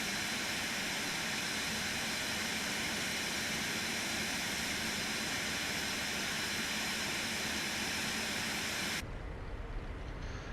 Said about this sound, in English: Lovely aircraft. I need to learn to fly it.